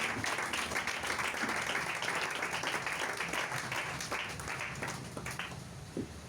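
Church congregation applauding and cheering together, a dense, sustained wash of clapping and voices that holds steady for several seconds before tapering slightly.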